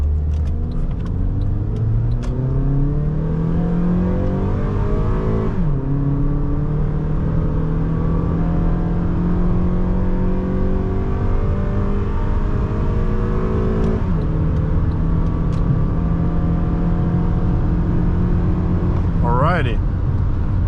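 A 2009 Honda Accord LX engine revs up through the gears during an acceleration test, each climb in pitch broken by a shift, loud and continuous from inside the cabin with road and wind noise.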